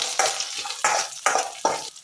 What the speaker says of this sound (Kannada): ಈ ಬೆಳ್ಳುಳ್ಳಿ ಸ್ಮೆಲ್ ಹೋಗೋ ತನಕ ಫ್ರೈ ಮಾಡಬೇಕು